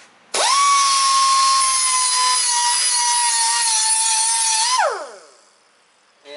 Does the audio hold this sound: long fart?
no